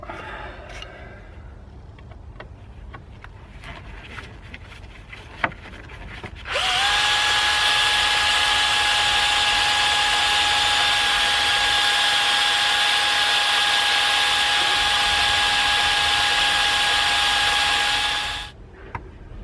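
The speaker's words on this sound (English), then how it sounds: "So it seems like that one's going to need drilling out." A power drill whines loudly and steadily for about twelve seconds, drilling out a rusted screw on a BMW E60, after some quiet clicks and handling noises, then spins down.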